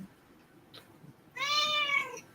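A single drawn-out cat meow, clear and fairly close, rising then falling, preceded by quiet background.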